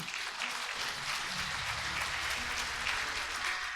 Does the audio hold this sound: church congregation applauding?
yes